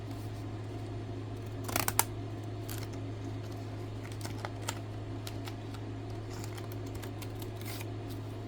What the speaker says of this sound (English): The only problem with decorative edge scissors is you have to line them back up.